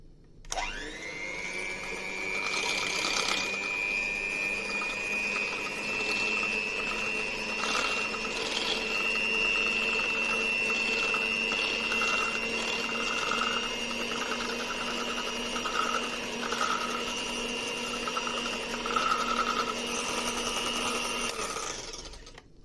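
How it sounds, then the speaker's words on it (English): An electric mixer whirs steadily while blending a serum formula, starting abruptly and running with a sustained high whine and slight fluctuations for about twenty seconds before cutting off. "You can use the electric mixer here if needed."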